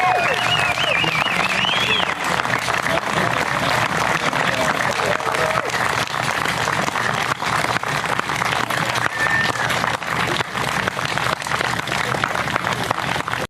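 Sustained, dense applause from a seated audience honoring the Volunteer of the Year at a July 4th celebration, steady and loud throughout with crowd murmur mixed in and no pauses.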